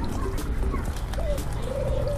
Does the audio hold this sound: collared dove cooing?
yes